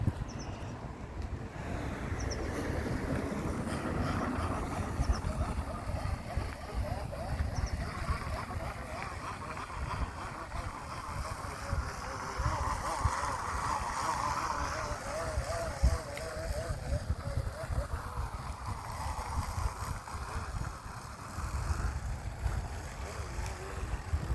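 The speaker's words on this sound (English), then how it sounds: "I'm trying to let the wind calm down a little bit." Wind gusting outdoors on a lawn during Blackjack Bermuda grass seeding, a steady low rumble and buffeting against the microphone with no pause, continuous and close throughout.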